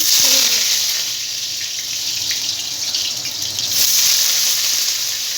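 Cut potatoes fry in hot oil while a spatula stirs them, giving a steady, fairly loud sizzling hiss throughout with faint scraping movements underneath and no talking.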